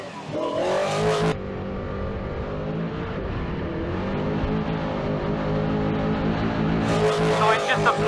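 A trophy truck runs flat out offroad at King of the Hammers, a loud sustained engine roar from inside the cab, rising and shifting in pitch, with voices talking over it.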